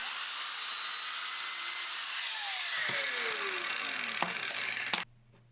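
A biscuit joiner cutting a rabbet in a wood board, a loud steady high-pitched motor whine with falling tones as it spins down, a couple of sharp knocks near the end, then it cuts off to quiet.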